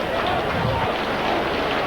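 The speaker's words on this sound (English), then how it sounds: "And applause there from the South Stand crowd" A South Stand crowd at a Leeds v Castleford rugby league match applauds with a steady wash of distant clapping and crowd noise that runs unbroken through the moment, with a commentator's voice partly audible.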